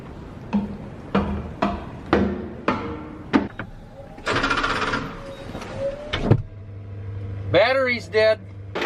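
A farm truck with a dead battery failing to crank, giving a series of sharp, evenly spaced clicks and short thuds, then a brief hissing stretch and a few more bursts, with some brief voice sounds near the end.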